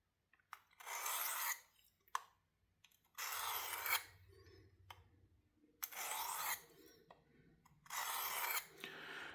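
Four long, even rasping strokes of a knife blade across a Work Sharp field sharpener, polishing the bevel on a 400-grit surface, each pass separated by short pauses with faint handling noises between.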